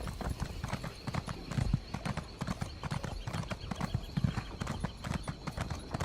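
Horse hooves clip-clop steadily in The Elder Scrolls Online, a fast, even rhythm of close, distinct hoofbeats that continues without a break.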